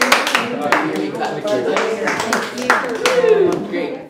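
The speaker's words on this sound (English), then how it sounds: "if you hear me clap twice" Hand claps ring out in a room during a group session, a few sharp broadband hits standing out against ongoing talk from people nearby.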